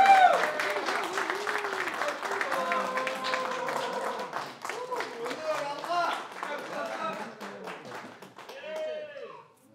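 Audience clapping for the captain of the team that won first place at a friendship match, sustained applause throughout with a voice speaking over it.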